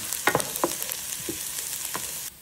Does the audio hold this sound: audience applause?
no